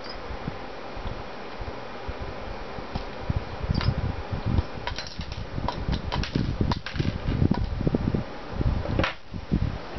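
Small cutter snips and plastic scraping click irregularly at close range as dart pegs are trimmed off a Nerf Snapfire 8 turret, with soft handling rustles and clusters of sharp ticks over a faint background hum.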